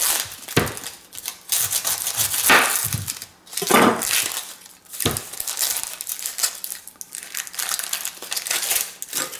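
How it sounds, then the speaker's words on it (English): A knife chops through an onion on a cutting board, giving repeated crisp, uneven cuts and crunchy crackles, close and fairly loud, with a faint steady hum underneath. "what I'm just going to do is just dice up my onion real quick."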